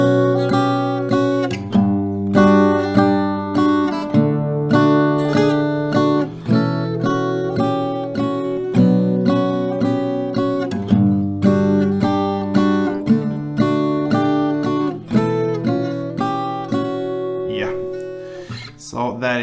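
Acoustic guitar picks out a melody in steady, sustained plucked notes with ringing harmonics, played alone, close and fairly loud throughout.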